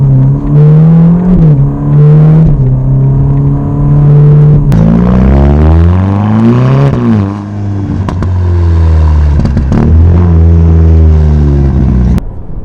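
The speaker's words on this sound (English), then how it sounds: "the sound for a car that has a particulate filter, it burbles and it bites on the downshift" A Ferrari Roma engine, fitted with a particulate filter, revs loudly, its pitch climbing and dropping through several gear changes, with a throaty burble and crackle on downshifts as it comes off the throttle.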